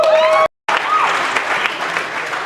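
Convention audience at a steampunk makeover and body painting event applauding, a loud, close wash of clapping with a few whistles, broken by a brief dropout before resuming steadily.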